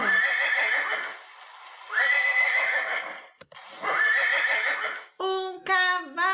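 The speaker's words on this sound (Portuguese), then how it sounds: "Um cavalo!" A horse neighs and whinnies in three long, loud, close calls separated by brief pauses, followed by a short, different animal cry at the end; no talking.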